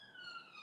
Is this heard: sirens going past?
yes